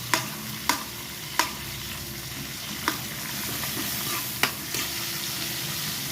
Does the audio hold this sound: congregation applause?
no